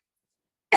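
A single short cough bursts out abruptly at the very end after near silence, close to the microphone.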